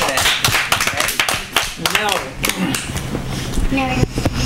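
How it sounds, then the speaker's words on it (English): An audience at a children's pageant claps in a burst of scattered, sharp hand claps mixed with voices and talking, uneven and close. "A big clap for that."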